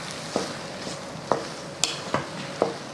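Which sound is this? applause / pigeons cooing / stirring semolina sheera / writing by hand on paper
stirring semolina sheera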